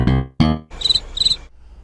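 Crickets chirping, heard as two short bursts of high, rapid trilling against a faint background, following a brief stretch of voice.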